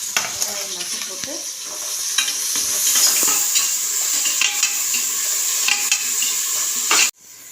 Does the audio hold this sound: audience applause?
no